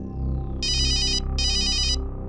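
Mobile phone ringtone sounding in two loud bursts of bright electronic warbling tones separated by a short pause, playing over a low background hum with no talking.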